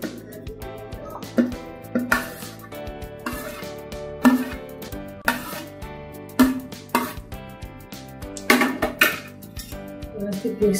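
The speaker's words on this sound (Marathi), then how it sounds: "आता आपण हे भात याच्यामध्ये ऍड करून घेऊया." Cooked rice being added into dal in a pot for dal khichdi, repeated metallic clanks and scrapes of a spoon against the pot, close and irregular, over a faint tonal background.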